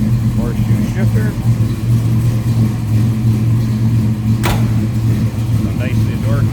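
A 1972 Chevrolet Chevelle SS tribute with a 496 V8 rumbles steadily and close at a deep, lumpy idle, with voices over the engine.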